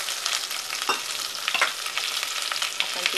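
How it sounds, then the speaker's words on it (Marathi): Masala gravy for an Indian egg curry sizzles and crackles in hot oil after water is added, a dense, bright frying hiss with sharp pops from start to finish. "त्यातच थोडंसं पाणी टाकून"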